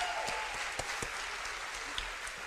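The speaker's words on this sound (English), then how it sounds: "Applaud the poet, not the points." Audience applause at the London Poetry Slam finals, a short burst of clapping from the crowd with a few sharper individual claps standing out.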